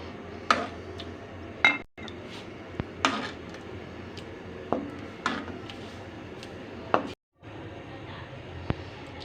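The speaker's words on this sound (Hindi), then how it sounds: "अब इसको हम डिश आउट करते हैं।" Cooked chana dal with pumpkin being served into a dish, with scattered clinks and scrapes of a spoon against cookware and the dish, separated by quiet pauses.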